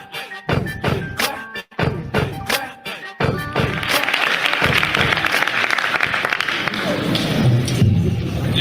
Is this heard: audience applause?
yes